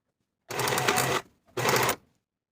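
A sewing machine stitches along the seam allowance of a sewn section of beginner barrel-leg pants, running in two steady bursts, a longer one and then a shorter one, with a brief pause between and no talking.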